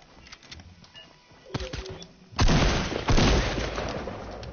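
Pistol shots ring out in a French first-person shooter match, several sharp loud cracks bunched together in the second half after a quieter stretch of scattered game noise.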